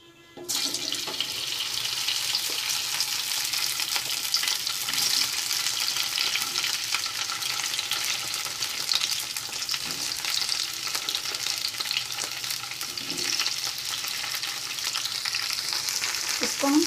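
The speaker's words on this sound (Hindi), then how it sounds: "ऑयल हमारा गर्म हो गया है, इसमें कटी हुई भिंडी को डालकर भून लेते हैं" Chopped okra drops into hot mustard oil and breaks into a loud, dense, continuous sizzle that holds steady for the whole stretch, with faint stirring bumps underneath.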